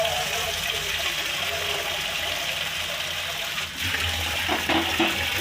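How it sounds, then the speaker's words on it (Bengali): Warm water is poured into a papaya and potato curry in a pan, giving a steady, close gushing splash throughout with a slight change in flow near the end. "জলটা গরম করে গরম জল দেবেন"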